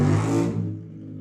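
A loud car revs in a parking lot, apparently running without an exhaust, a harsh low engine roar that holds briefly, then drops off quickly.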